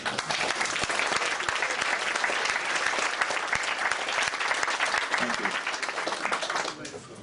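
A crowd at an evening talk claps loudly for Charlie Veitch of the Love Police, with thick, continuous applause from many hands that fades slightly at the very end.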